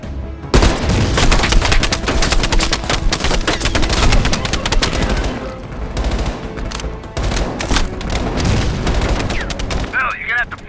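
Sustained machine-gun fire from an entrenched MG in Call of Duty: Black Ops Cold War, dense and loud, rattling almost continuously with heavy bursts and booming impacts. Faint voices sit under it near the end.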